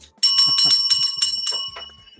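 A bicycle-style bell rung rapidly about eight times in quick succession, bright and close, with faint voices underneath; the ringing tapers off at the end.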